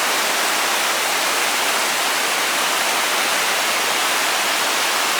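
A mountain river rushing near the Chimneys trailhead in the Great Smoky Mountains, a loud, unbroken roar of flowing water heard up close, with no voices.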